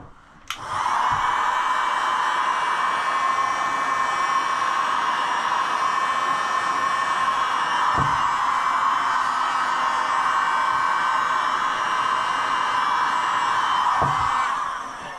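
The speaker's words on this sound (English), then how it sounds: "once you get that heat gun on there, it really lets you work with these vinyls here" A heat gun warming vinyl graphics on a Kawasaki KLX110 pit bike blows a loud, steady airy whoosh with a fan hum, switching on near the start and running continuously, with a couple of faint knocks along the way.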